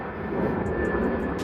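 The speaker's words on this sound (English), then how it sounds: "Airplane." An airplane passes overhead, a faint, steady droning roar of engines holding level throughout the short stretch.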